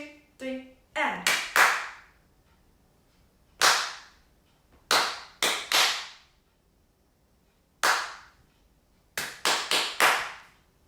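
Hands clapping a rhythm for a song in short bursts of quick sharp claps separated by pauses, crisp and close, with a brief vocal sound at the start.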